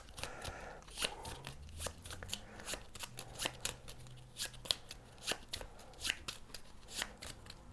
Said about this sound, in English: Shuffle these back up.